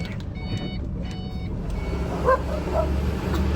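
Dogs bark a couple of times at middle distance in a residential area with pretty houses, set against a steady low rumble of a truck or traffic and a high electronic beeping.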